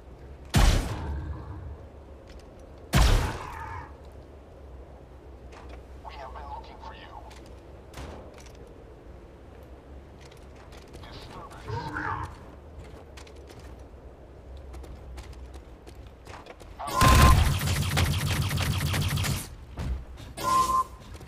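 Sniper rifle gunfire in the Xbox 360 game Dark Void: two sharp, loud shots spaced a few seconds apart, later a sustained burst of gunfire, with quieter mechanical clicks and thuds between and a voice talking.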